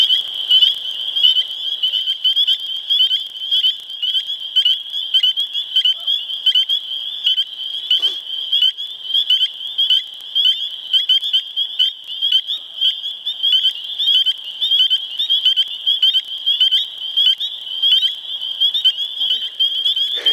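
A spring peeper frog calls with its vocal sac puffed into a bubble, giving a loud, steady train of high, piping peeps that repeats rapidly and evenly, close by and without a break for the whole stretch.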